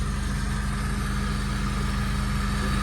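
An Acura Integra engine idles steadily and close by, a continuous low rumble with an even pulsing rhythm and no voices.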